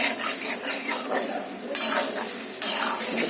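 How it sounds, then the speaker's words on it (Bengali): Coconut curry being sautéed and stirred in a pan, a steady close sizzle with scraping stir strokes and two sharper clanks partway through, with no talking. "ভালো করে কষাতে হবে,"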